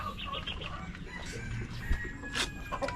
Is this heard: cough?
no